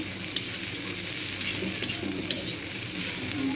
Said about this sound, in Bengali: এখন আমি একসাথে সবগুলোকে মিশিয়ে নিচ্ছি